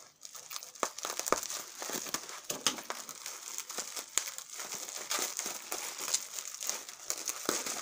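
Plastic wrapping crinkles and crumples continuously as a heavily wrapped parcel of gel nail polishes is pulled open, close and fairly quiet, with dense irregular rustles and tearing crackles and no speech.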